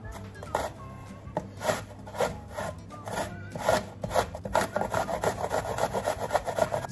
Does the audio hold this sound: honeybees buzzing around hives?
no